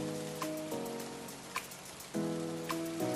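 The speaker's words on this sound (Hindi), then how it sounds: "लाहौर में गरज चमक के साथ मूसलाधार बारिश से जलथल एक हो गया।" Heavy rain pours during a thunder-and-lightning downpour in Lahore, a soft continuous hiss of falling water running beneath steady background music.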